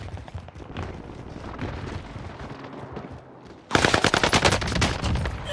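A submachine gun fires in Call of Duty Vanguard Warzone on Rebirth Island: after quieter game ambience, a loud, rapid full-auto burst erupts and keeps rattling to the end.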